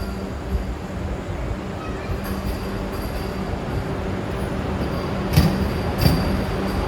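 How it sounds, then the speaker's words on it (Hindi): A Vande Bharat Express train rolls into Ayodhya Dham Junction with a steady low rumble and rail noise. A couple of sharp clanks near the end stand out over the continuous hum. "वंदे भारत एक्सप्रेस यहाँ पे 10 मिनट की बिफोर टाइम पे अयोध्या धाम जंक्शन पे"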